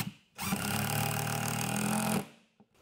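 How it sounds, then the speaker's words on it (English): A power driver runs a screw into a 2x4 over OSB sheathing, one continuous loud whirring burst of about two seconds, starting and stopping abruptly, close by. "I have a 2x4 running right down the center, and I'm just going to put a few screws into that and secure it down"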